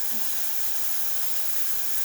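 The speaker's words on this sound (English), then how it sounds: "the steamer itself is providing great steam, excellent temperature, really great pressure" Steady, loud hiss of steam from the steam wand of a serviced Saeco espresso machine, running continuously and unbroken, with no talk over it.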